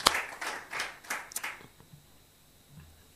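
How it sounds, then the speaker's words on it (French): Brief round of audience clapping at a talk on nudges during a longevity conference, several bursts of hand claps over about a second and a half, then fading out into quiet room tone. "je crois qu'on peut vous applaudir."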